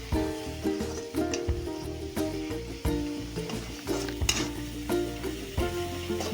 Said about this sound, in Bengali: কিছুক্ষণ নেড়ে চেড়ে ভালোভাবে ভেজে নেব মশলাটা